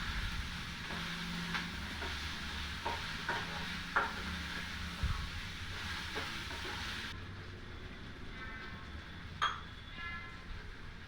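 Eggplant pieces fry with turmeric and salt in a pan for vangibath, with a continuous sizzle broken by scraping stirs and occasional clinks of a utensil against the pan, heard close.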